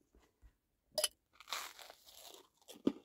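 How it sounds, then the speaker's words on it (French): Crunchy food chewed close up inside a van, a few distinct crisp bites and crunches spread over three seconds with quiet gaps between them. "Ça croustille."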